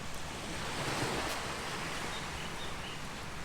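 Surf washes steadily onto a quiet, clean white-sand beach in Hua Hin, Thailand, a continuous broadband wash with light wind noise and no voices.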